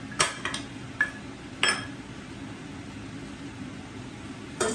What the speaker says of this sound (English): now I'm gonna mix all the ingredients